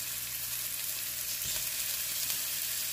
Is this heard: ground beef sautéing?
yes